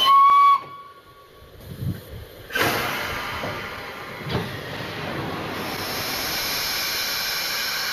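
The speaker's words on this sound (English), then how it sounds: "Steam fills Tornado's cylinders." Steam hissing from the cylinders of the Tornado steam locomotive, starting after a brief whistle tone, then a loud sustained broadband hiss with a sharp burst midway, continuing steadily.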